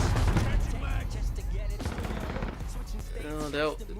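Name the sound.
gunfire in a video game shooter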